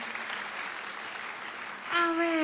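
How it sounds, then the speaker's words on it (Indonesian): A church congregation claps in a sustained burst of applause that stays fairly even and moderately loud, with a voice starting to speak over it near the end. "Boleh tepuk tangan buat ayat ini"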